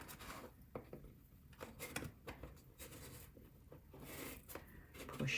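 A bone folder creases a paper card box fold, with close, soft scraping and rubbing strokes in short repeated passes and a few light taps, fairly quiet with no talking.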